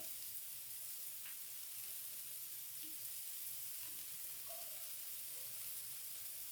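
Onions sizzling and frying in a pan, a steady broadband hiss running throughout with a few faint pops and crackles, fairly quiet and without talk.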